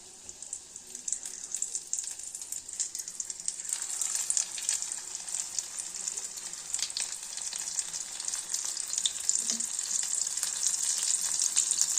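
Amodi fish frying in hot oil gives a steady, dense sizzle that holds for the whole stretch and grows slightly louder, close by, with faint occasional clinks and no speech.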